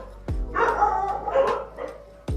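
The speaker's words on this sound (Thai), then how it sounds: "เอ้ยหมาเห่าทำไมวะ" A dog barks sharply nearby, with a couple of loud barks and short yelping, whimpering sounds in between.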